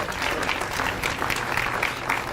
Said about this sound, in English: Let's give him a round of applause if we could.